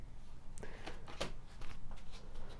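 Tarot cards being shuffled by hand, a steady papery riffle with several sharper slaps and flicks, close and continuous, with no talking.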